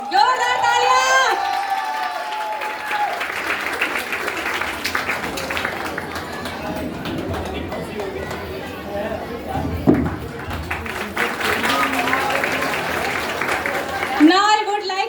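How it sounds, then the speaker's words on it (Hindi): An audience claps and cheers at a school foundation day sports award for man of the match, steady crowd applause with voices mixed in, sustained throughout and swelling briefly near the end. "जोरदार तालियां।"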